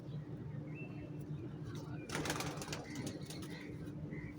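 A pigeon coos softly in low repeated notes, faint and steady, with a brief burst of rustling or wing noise in the middle.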